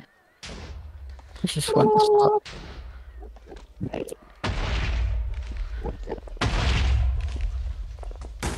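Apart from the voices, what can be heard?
explosion in Minecraft video game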